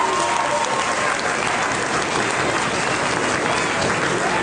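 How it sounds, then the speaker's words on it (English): A crowd at a debating championship final applauds loudly and steadily throughout, a dense wash of clapping with no break, heard close and full. "Loud round of applause for all the teams in the final"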